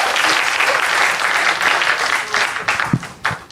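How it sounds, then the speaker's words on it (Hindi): Loud, close audience applause at a Hindi poetry and comedy gathering, a dense roar of many hands clapping that thins toward the end into scattered individual claps. "तालियां बजाते रहिए"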